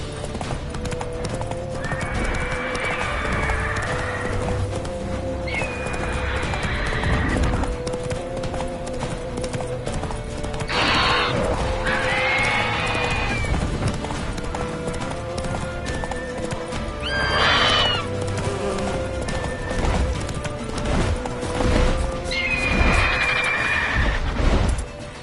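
Geralt's horse Roach in a Witcher game, with steady galloping hoofbeats throughout and several loud neighs and whinnies breaking in, while someone speaks briefly.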